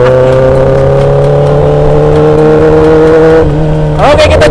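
A 2021 Kawasaki ZX-10R superbike engine revving loudly up close, a sustained high idle climbing steadily before a sharp burst of revs and crackling near the end.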